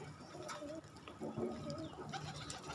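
Pet pigeons cooing softly nearby in a few short, repeated throaty calls over quiet background rustle.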